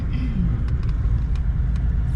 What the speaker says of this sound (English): Good old bush tracker caravan coming in front of us.